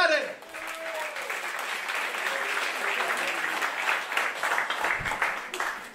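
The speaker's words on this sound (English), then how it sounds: "keep that applause going for Greg McFadden." A comedy club audience claps steadily for a comedian, the applause continuous and fairly loud throughout with a brief voice at the start.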